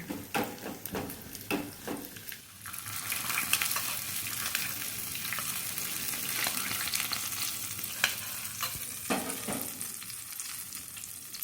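Steady sizzling of cashews and raisins frying in hot oil, with occasional stirring scrapes and clicks from a pan, close and continuous.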